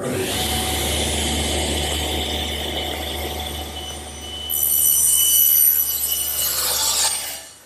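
A table saw with a plywood panel cutter jig runs and cuts through a large panel, a loud steady motor drone with a high whining squeal as the blade bites near the end before spinning down.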